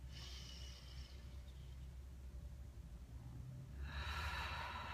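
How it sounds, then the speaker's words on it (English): A deep inhaled breath during a guided breathing exercise, a broad hissing intake swelling near the end over a steady low background hum. "let's just take a really deep breath"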